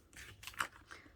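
Scissors snipping the edge of a paper card being trimmed down for stamping, a few short crisp cuts close up, with one sharper snip standing out in the middle of a quiet moment.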